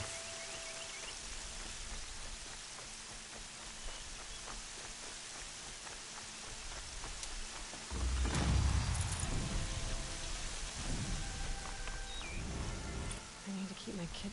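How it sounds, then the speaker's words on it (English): Steady rain hissing in the open-world video game Horizon Zero Dawn, a continuous wash of drops that swells louder midway and holds on without speech. "no one cares about the rain in this universe."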